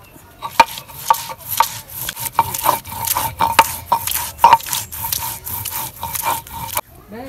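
Ginger, garlic and spices are ground by hand, giving a series of rhythmic rasping rubs and scrapes, each stroke close and fairly loud, repeating at an uneven pace.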